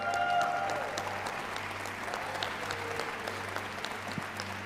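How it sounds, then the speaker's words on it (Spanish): Church congregation applauding a first-time visitor, a steady dense clapping that starts strongest and holds at an even level across the whole stretch, with no speech over it. "denle un fuerte aplauso"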